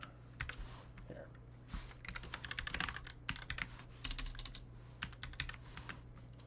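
Fingers typing a command on a computer keyboard, a quick irregular patter of keystrokes in bursts, fairly quiet and close, with no one talking over it.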